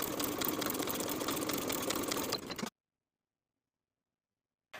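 Sewing machine edge stitching along the folded top edge of a bag's binding: a steady mechanical whirr running evenly for a couple of seconds, then stopping abruptly into silence, with a brief restart at the very end.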